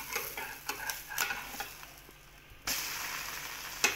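A half-fried egg sizzling in a pan right after being flipped, a close crackling fry with several sharp spatula taps and scrapes, the sizzle briefly dropping then surging back louder.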